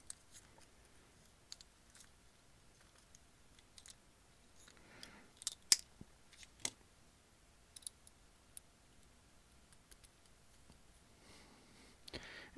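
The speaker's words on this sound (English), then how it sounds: "take a fresh blade and put it into our X-Acto knife" A fresh blade is fitted into an X-Acto knife with faint, scattered small clicks and snaps, a close cluster around the middle and another brief burst at the end, in an otherwise quiet room.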